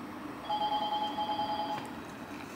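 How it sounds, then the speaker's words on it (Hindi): A phone rings indoors, giving a steady electronic warbling tone at moderate volume that lasts just over a second over faint room hiss, then fades out. "किसी का फ़ोन आ रहा है"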